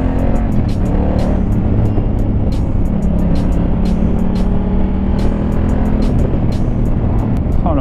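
Honda Africa Twin 2019 motorcycle engine heard while riding, a steady loud drone with low harmonic hum running throughout, mixed with wind rush and road noise.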